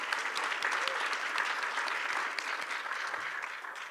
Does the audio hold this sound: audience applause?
yes